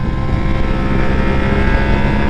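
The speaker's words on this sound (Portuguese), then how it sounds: "Olha como que essa moto deita nas curvas, cara." A Yamaha Ténéré motorcycle leaning through curves, its steady engine drone blending with heavy wind rush, loud and continuous without a break.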